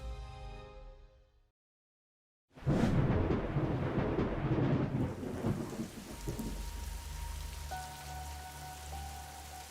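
Heavy monsoon rain in eastern India with thunder: a near silent gap breaks into a loud thunder crack, then dense steady rainfall pours on surfaces with rumbling continuing underneath, while a faint tonal hum enters near the end.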